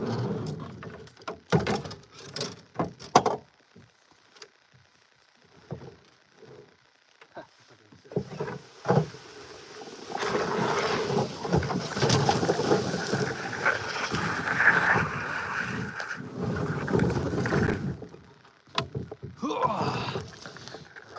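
Canoe setting off on a lake, with paddle and water sloshing and wind buffeting the microphone, broken by knocks and bumps against the hull and scattered talk nearby.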